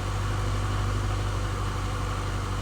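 A Range Rover with a blocked DPF runs at raised revs, giving a loud, steady, even engine drone that holds without change.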